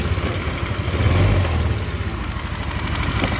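A Yamaha Soul GT 125 motorcycle with hard starting and a rough-running engine fires up and settles into a steady, slightly uneven idle close to the microphone.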